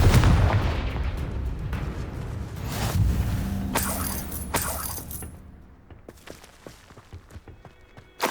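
Confringo blasting spells in Hogwarts Legacy on PS5: a loud rumbling blast that decays into scattered debris clatter and sharp crackling impacts, ending with another abrupt hit.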